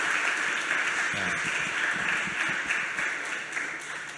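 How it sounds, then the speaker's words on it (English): Retreat audience applauds as a pastor is brought up, a dense continuous wash of many hands clapping at even loudness, with a faint voice underneath partway through. "So can we just give a round of applause as we bring up Pastor Sam?"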